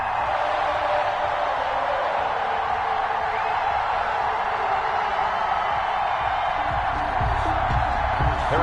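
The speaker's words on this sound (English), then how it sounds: "This crowd is ready as their guys get set to match up with the Denver" An NFL stadium crowd before kickoff of a Broncos versus Chiefs game produces a dense, constant roar of cheering, with low thumps near the end, and a commentator speaking over it.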